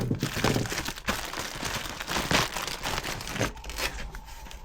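Plastic bag opened and handled while unboxing a Dakota Digital gauge cluster for 1981–93 Dodge trucks, giving steady close crinkling and crumpling with sharper tearing bursts throughout.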